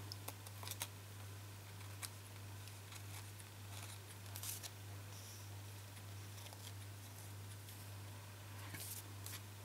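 Sharp scissors snip small bits off a piece of card while making a split front greeting card, giving a few quick, faint, close crisp cuts over a steady low electrical hum.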